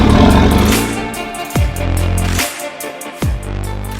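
A Porsche 944 with its front-mounted engine revs hard and pulls away, with loud low droning and two sharp gear-change dips as it accelerates, close and with no voices.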